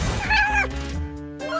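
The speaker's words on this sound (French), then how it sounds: "Le prochain défi est un chat." A cat meows up close in a clear, drawn-out cry, then falls quiet before a second, softer meow starts near the end.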